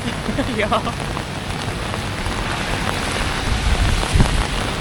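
Rain falls on a London street in a dense, continuous patter that stays close and fairly loud throughout, with a few heavier drops standing out against the steady wash.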